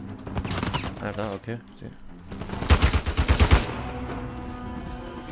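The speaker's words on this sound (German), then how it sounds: "Wer schießt denn hier auf mich?" Rapid bursts of automatic gunfire crackle amid game noise in Uncharted 4: A Thief's End, with someone speaking briefly over the shooting.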